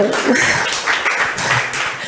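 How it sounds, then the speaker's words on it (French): A forum audience breaks into steady applause, a dense wash of many hands clapping at moderate loudness that continues without a break for a couple of seconds. "On peut applaudir aussi"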